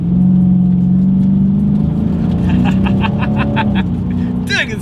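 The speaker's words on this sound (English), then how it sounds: "let's go ahead and see how quickly we can get this new 2020 Challenger Scat Pack here up to speed" A 2020 Dodge Challenger R/T Scat Pack launches hard with its wheels spinning, a loud, close engine roar holding steady before rising through a run of rapid pulses, with a voice speaking over it.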